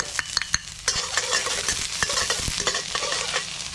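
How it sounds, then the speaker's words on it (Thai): Lemongrass and kaffir lime leaves for tom yum are stir-fried in a hot pan, with a busy sizzle broken by sharp, rapid clicks and scrapes of a utensil stirring nearby. "ใบมะกรูด ผัดเครื่องต้มยำให้หอมหมดเลย"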